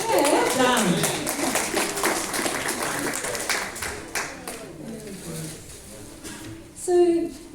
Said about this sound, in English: Give yourselves a everybody. clap.